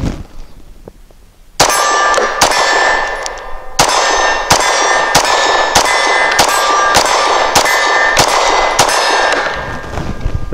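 An HK P30 SK LEM pistol fires at a steel target about 15 yards out, a quick string of loud sharp shots, each followed by a ringing metallic clang, coming fast and close together after a brief quiet start.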